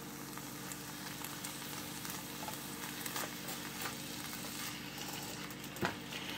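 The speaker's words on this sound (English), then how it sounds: "we're going to let this simmer for a few minutes" Lasagna meat sauce simmering on a stovetop, a soft, steady sizzle and bubble that stays quiet and close, with a light knock near the end.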